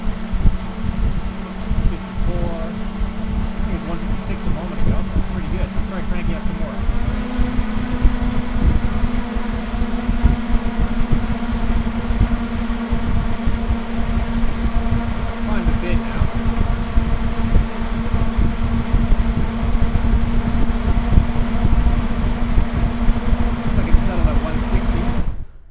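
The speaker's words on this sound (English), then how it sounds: "Cranking" Drone motors spin up during an ArduCopter 2.9.2 motor interference compensation run, a loud, steady whirring hum that steps up in pitch early on, holds for about twenty seconds, then cuts off.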